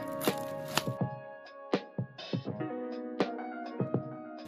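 Scissors cutting open a parcel holding a Nintendo Switch: a series of crisp, close snips and sharp crackles of packaging and tape, irregular and fairly quiet, with no talking.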